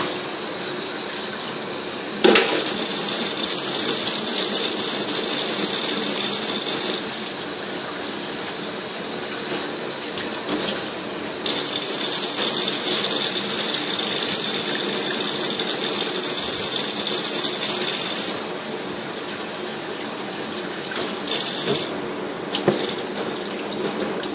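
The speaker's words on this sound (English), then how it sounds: "She's gonna rinse them out first." Tap water runs hard over tiny dried shrimp being rinsed in a kitchen, coming as two long loud gushes separated by a quieter pause, with short splashes near the end.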